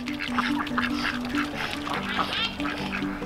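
A group of ducks quacks repeatedly nearby, their honking calls overlapping in a busy, continuous chatter.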